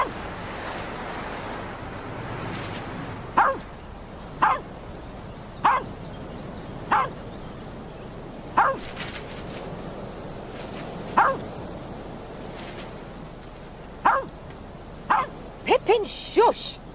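Pippin the dog barks outdoors on a windy day, about a dozen sharp single barks spaced irregularly that bunch closer together at the end, heard over steady wind noise.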